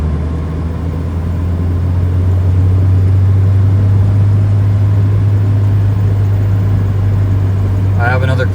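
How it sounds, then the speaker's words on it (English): A Nissan 240SX S13 with a custom tucked intercooler drives along, its engine a steady, loud, close drone that holds evenly throughout with a brief higher rattle near the end. "I did want to show you guys me driving her home."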